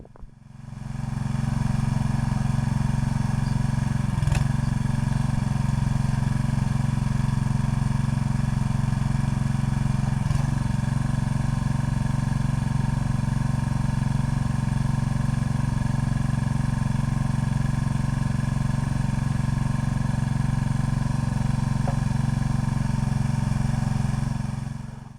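Small gas engine on a hydraulic log splitter running at a steady idle, a constant low droning hum close by, uninterrupted with no voices.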